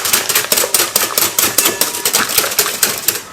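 Yorkshire pudding batter being whisked in a bowl, a rapid, steady run of close, bright tapping strokes with no voices.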